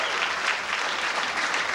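Audience at a comedy bar applauding in answer to the comedian's question about Orlando, a brief dense burst of many hands clapping, loud and even throughout.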